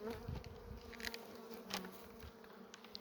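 Honeybees buzzing inside a beehive kept outdoors for winter, a close, steady drone with individual bees flitting past now and then.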